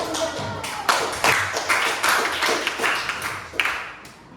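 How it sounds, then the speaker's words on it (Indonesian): A class of students clapping together, a burst of many hands in quick irregular rhythm, fairly close and loud, running for about four seconds with no voices over it. "Kita kasih aplaus untuk"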